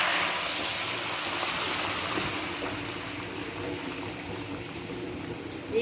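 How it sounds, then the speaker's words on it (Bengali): Gravy poured slowly into a hot pan with fried dry chili: a steady, close rushing hiss of liquid that tapers gently over several seconds, no talk. "এবার আমি ঝোলটাকে আস্তে করে ঢেলে দেবো।"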